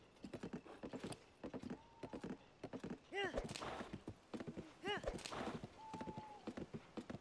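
Horse hooves clip-clop at a steady walking rhythm in The Legend of Zelda: Tears of the Kingdom, crisp and fairly faint, broken by a couple of whinnies and a few longer game tones.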